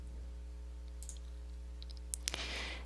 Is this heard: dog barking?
no